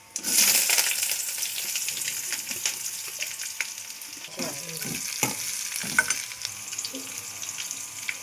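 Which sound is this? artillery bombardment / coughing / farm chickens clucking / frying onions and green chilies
frying onions and green chilies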